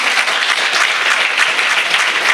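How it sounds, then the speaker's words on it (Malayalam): Sustained applause from a literature festival audience at Thevara, dense steady clapping that fills the room without a break, loud and close. "നിറഞ്ഞൊരു കൈയടി നമുക്ക് നൽകാം."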